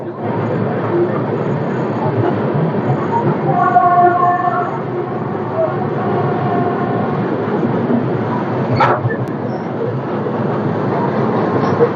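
The 13151 Jammu Tawi Express pulls out of Durgapur station, a loud steady rumble of rolling carriages and wheel clatter heard from on board, with a brief squeal partway through.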